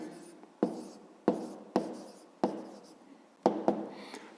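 A pen writes an answer by hand on paper as a series of short, sharp scratching strokes, each starting with a tap and fading out, close and quiet with no talk.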